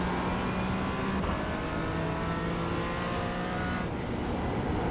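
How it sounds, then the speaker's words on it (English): A Porsche Cayman GT4 on track at Lime Rock, its engine droning steadily under load as it accelerates, close and continuous with no voices. "in the Porsche Cayman, I don't brake. I just let off the gas a little bit and then push forward"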